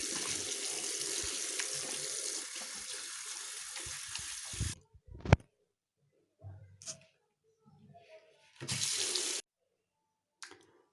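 Warm tap water running into a sink while cleaning a yellowed, stained surface: a steady rushing stream for several seconds, then stops, with short bursts of running water and faint handling noises after.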